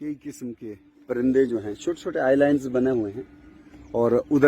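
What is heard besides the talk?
No everyday noise stands out behind the speech.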